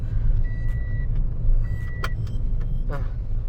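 Toyota Sienta 1.5 V, a 2018 seven-seat car, cornering through a tight curve: a steady low road and engine rumble from inside the cabin, with faint chimes and brief squeaks above it.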